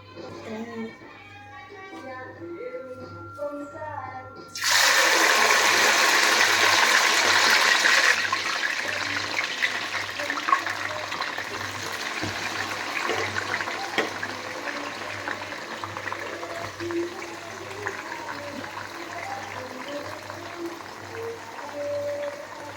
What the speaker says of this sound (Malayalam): അപ്പോൾ നമുക്ക് ഇത് കുറേശ്ശെയായിട്ട് എണ്ണയിലേക്ക് ഇടാം